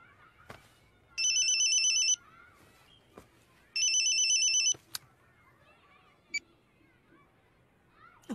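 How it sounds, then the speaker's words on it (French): A mobile phone rings in a classroom, its electronic ringtone sounding loud and close in two roughly one-second bursts. Soft rustling and faint background noise fill the gaps between them, with a few sharp knocks. "Je vous ai déjà dit de couper vos portables quand vous êtes en classe"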